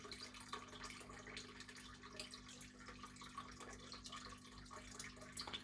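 Water trickles and drips steadily into an aquaponics tank, breaking the surface with a continuous splashing patter that holds at an even level throughout, close and moderately loud.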